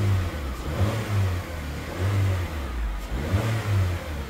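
A small 2017 Holden Barina Spark engine revs up and settles back several times in a steady rhythm, close by, with no talking over it.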